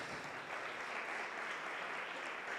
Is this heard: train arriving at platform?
no